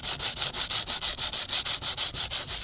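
Rhythmic back-and-forth rasping of a soft sanding block with P80 grit on a scratched plastic car bumper of a Citroen Xsara Picasso, steady even strokes at close range with nothing else heard.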